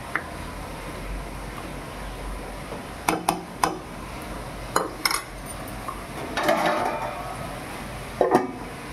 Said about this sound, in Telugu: కడిగి పెట్టుకున్న చికెన్ వేసుకున్నాం. బాగా కలుపుకోవాలి.